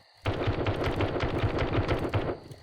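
Rapid bursts of gunfire in the 7 Days to Die zombie survival game, War of the Walkers mod, a dense string of about ten close, sharp shots in quick succession.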